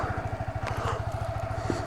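A Yamaha R15 motorcycle engine thrums steadily while riding, a fast regular pulse heard close and moderately quiet, with light road clatter.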